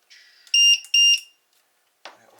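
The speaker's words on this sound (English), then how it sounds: "And it'll beep for us." Two short, bright electronic beeps from a battery pack for an HTC Vive TPcast wireless device sound in quick succession, fairly loud, followed by a faint click a moment later.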